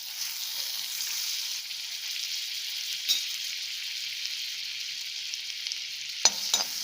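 Butter melts in a pan rinsed out after an earlier round of sautéing, giving a soft, steady sizzle that hisses evenly throughout, with a couple of faint clinks near the end.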